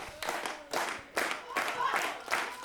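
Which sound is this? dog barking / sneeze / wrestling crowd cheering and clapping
wrestling crowd cheering and clapping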